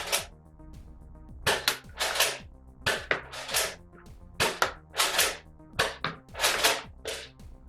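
A Nerf Tri-Strike blaster fires Elite foam darts in a quick series of sharp, close pops, some in pairs and some alone, separated by short mechanical clicks from priming between shots.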